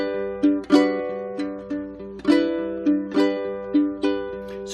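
Ukulele playing a song, with sustained chords and a sharper down strum landing on each chord change, about a handful of accented strums in a steady rhythm, close and alone.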